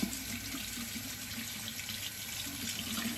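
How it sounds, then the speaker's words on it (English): Tap water runs steadily into a sink while a razor head is rinsed under it, a continuous close splashing flow with no talking. "rinse the head with a mild soapy water or just warm water."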